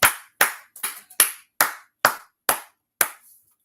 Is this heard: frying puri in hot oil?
no